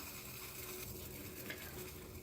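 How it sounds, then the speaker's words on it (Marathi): A homemade herbal remedy mixture for cough and cold simmers in a pot on a low flame, giving a steady, soft bubbling hiss that continues evenly throughout with no talking. "आपण आता 2 ते 3 मिनिटे लो फ्लेमवरती या मिश्रणाला उकळवून घेऊया"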